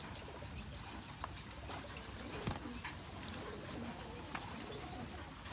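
Bred pigeons at a sale coo faintly amid busy background bird chatter and a few sharp knocks, low and continuous throughout.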